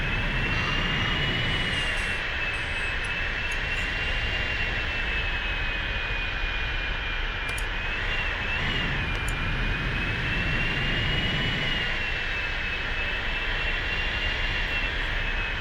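Jet engines of a Hawker 4000 business jet in a flight simulator game, thrust reversers deployed on landing rollout, give a steady loud whine with a rushing roar beneath, holding constant throughout with no talking.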